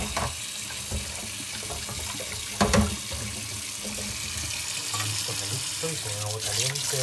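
Tap water runs steadily into a sink while a small tin pot is rinsed, with faint clinks and a brief louder splash partway through, under a light background of talk.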